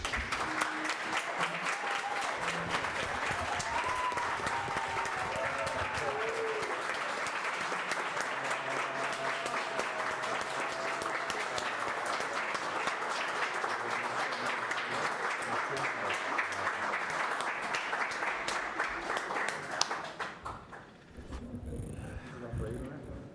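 Sustained applause from the audience at the close of a solemn session of a city council honouring a new citizen, dense steady clapping that lasts about twenty seconds before dying away, with faint voices beneath.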